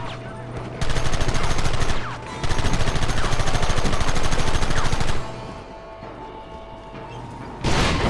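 Sustained machine gun bursts in the Western video game Red Dead Redemption, loud dense rapid fire in two long stretches separated by brief pauses, then a quieter lull before another burst starts.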